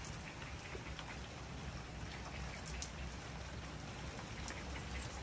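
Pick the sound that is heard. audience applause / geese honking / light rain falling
light rain falling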